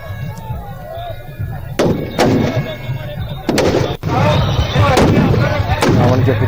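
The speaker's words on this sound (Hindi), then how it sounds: "रावण के पुतले, उनमें भी पटाखे लगाए गए थे, वो भी चलाए गए" Loud firecracker bangs burst one after another at a Dussehra Ravana effigy burning, some sharp cracks and others booming, against a noisy crowd with continuous background clamor.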